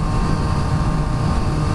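Boat engine held at high revs, a steady loud droning rumble with no breaks, close by and alone.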